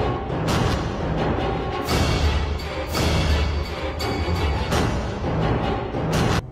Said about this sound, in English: the creepy atmospheric tracks that are accompanied by Isaac's breathing